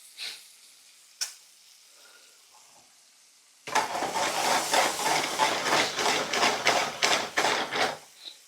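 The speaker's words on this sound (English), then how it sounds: "I'm going to take the pasta, move the pasta around" Pasta being stirred in a hot pan, a quiet start with one sharp knock, then a loud, steady sizzle and frying hiss with rhythmic stirring scrapes that fade near the end.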